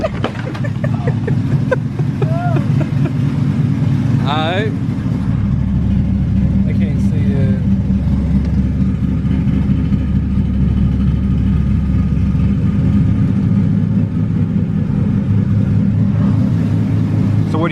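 A rebuilt car engine idles while its ignition timing is adjusted, giving a loud, steady low rumble that runs continuously, with a person talking over it nearby.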